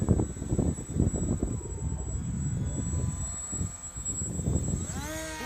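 A small radio-controlled paper aeroplane with a propeller motor flies overhead outdoors, a steady buzzing drone that rises and falls as it turns downwind, with a whining pitch sweep near the end.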